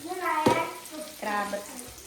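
Crab frying in a pan in a home kitchen, a soft sizzling hiss with brief louder crackles, heard under a person talking.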